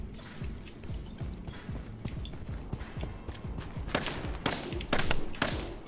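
Rapid bursts of machine-gun fire in the video game Lost Light rattle steadily and grow louder toward the end, with sharp cracks over a busy background.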